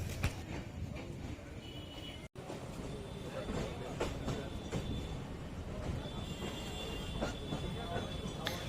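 MEMU local train running out of Ranaghat station, a steady rumble of wheels and carriage noise heard from on board, with occasional squeals and clicks throughout.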